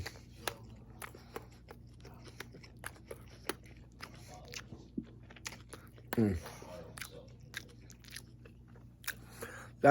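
Sushi being chewed close to the microphone, with soft repeated wet clicks and small crunches in a quiet room and a louder bite partway through.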